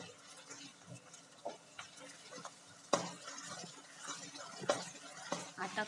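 Garlic and ginger paste stirred and sautéed in a pan for chole masala, quiet soft scraping and faint sizzling with a few sharper clinks of the spoon.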